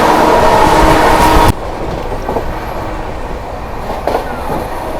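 The Jammu Tawi–Sambalpur Express overtakes at Anand Vihar Terminal station in Delhi with a loud, close rushing rumble that cuts off after about a second and a half, leaving quieter station ambience with faint clanks.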